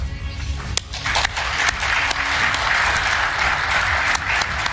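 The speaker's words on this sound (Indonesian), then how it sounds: "Tepukan gemuruh dari semua untuk pidato Pak Prabowo." Loud audience applause fills a hall after a presidential speech by Prabowo at an event with Turkish and Indonesian officials, a dense steady clapping with a few sharp louder claps rising above it.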